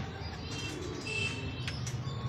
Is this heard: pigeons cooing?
yes